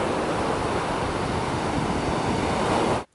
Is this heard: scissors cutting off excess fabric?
no